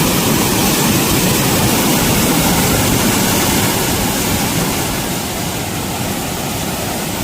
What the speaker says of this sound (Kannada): ನೆಕ್ಸ್ಟ್ ಹಂಗೆ ಫಾಲ್ಸ್ ನೋಡಿ ಸ್ನೇಹಿತರೆ ಹೆಂಗೈತೆ ಅಂತೇಳಿ.